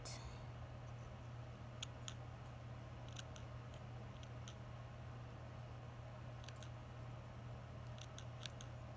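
Scissors trim a doll's hair in several short, crisp snips in small clusters, quiet and close over a steady low hum.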